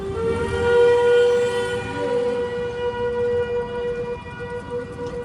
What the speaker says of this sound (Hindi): रास्ते पे ही हो गया हमारा रोज़ा, हॉर्न बोल गया।